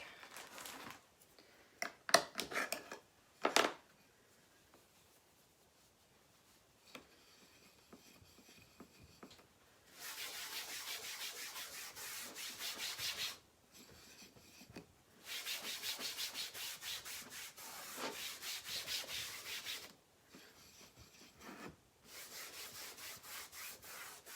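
Minwax Special Dark Finishing Wax Paste is rubbed onto a wooden frame in close, soft scratchy strokes. It comes in a few short bursts, then longer stretches of steady rubbing with pauses between them.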